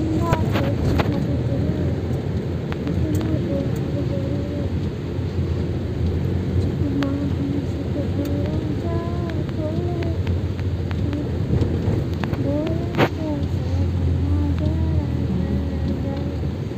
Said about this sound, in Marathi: आणि पाऊस चालूच आहे.